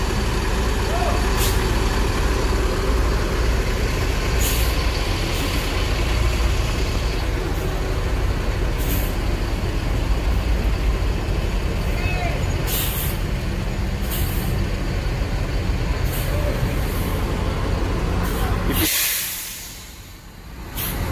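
A large intercity bus reverses slowly at a busy stop, its engine a steady low rumble with repeated bursts of air-brake hiss, then a long final release of air as the sound drops away near the end.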